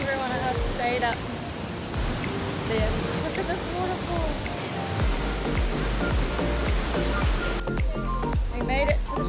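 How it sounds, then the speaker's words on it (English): Waterfall in Ubud, Bali, a steady broadband rush of falling water that runs throughout, with voices and other activity mixed over the roar. "Look at this waterfall."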